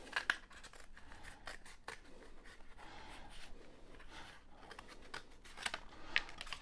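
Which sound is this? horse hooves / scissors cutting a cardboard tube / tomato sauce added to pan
scissors cutting a cardboard tube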